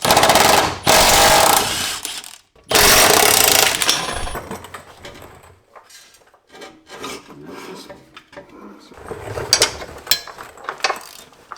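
Ratchet wrench spinning off the two 14mm bolts on the center carrier bearing of a Subaru WRX with the FA20 engine, heard as loud, close rasping bursts of clicking, then quieter intermittent metallic fiddling with no talk.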